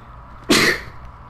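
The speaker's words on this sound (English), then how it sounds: "That was a sneeze." A single sharp human sneeze bursts out close and loud from a gamer, brief and alone against quiet room noise.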